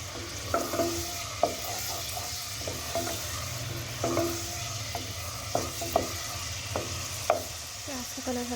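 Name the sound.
onions frying in a pan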